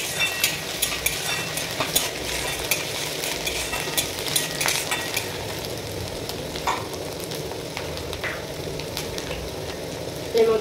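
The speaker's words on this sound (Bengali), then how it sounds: "এবার এটাকে ভালোভাবে মিক্স করে নেবো নেড়ে চেড়ে।" Ginger and garlic fry in a pan with a continuous hissing sizzle, while a utensil stirs and taps against the pan in frequent light clicks.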